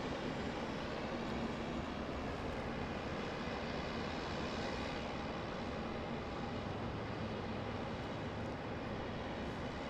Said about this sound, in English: I think it was a Spartan. Yep, taking off now